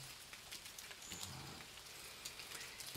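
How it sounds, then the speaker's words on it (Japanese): Light, steady rain patters near a stone gazebo housing a large rock, a soft continuous hiss of drops with occasional louder taps, heard alone without speech. "しとしと雨が降っております。"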